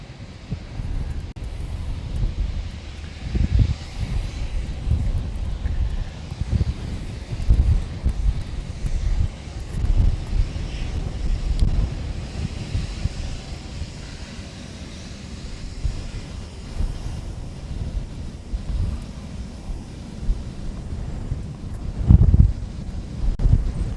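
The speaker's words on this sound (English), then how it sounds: "The wind." Strong wind blowing across a microphone at Honolulu airport, a steady loud rumbling buffet with gusts rising and falling throughout.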